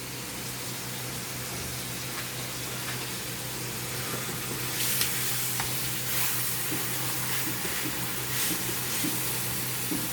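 Garlic, ginger, leeks and lemongrass sauté in a hot pan, giving a steady hissing sizzle that swells slightly partway through, with faint occasional scrapes and no talking.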